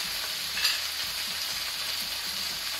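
Turmeric powder frying in a pan for a simple chicken curry gives a steady, moderately quiet sizzle that holds evenly throughout, with one small clink early on.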